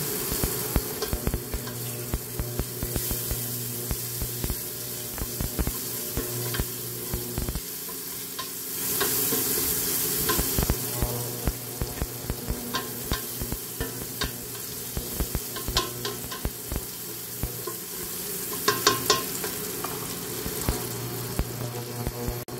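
Margarine sizzles steadily in a hot pan while a utensil stirs and scrapes through it, with occasional louder clanks and bursts of frying over the continuous crackle; no voices.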